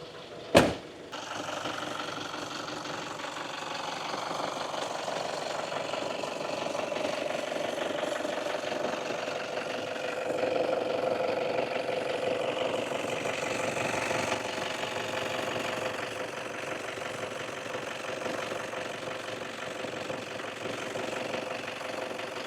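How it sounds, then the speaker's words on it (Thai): A Toyota Sport Rider 3.0 G diesel 4WD with automatic transmission idles steadily, heard from the front of the engine bay. The low, even rumble carries a faint diesel clatter, with a single sharp click at the start and no talking. "เดี๋ยวไปฟังเสียงเครื่องยนต์ที่ด้านหน้าของตัวเครื่องกันครับ"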